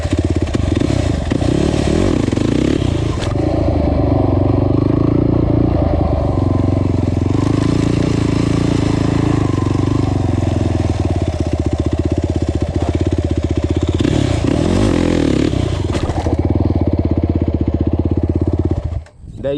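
A quad ATV engine roars loud and close throughout a wheelie, revving and holding high with brief surges and dips, cutting off abruptly at the end.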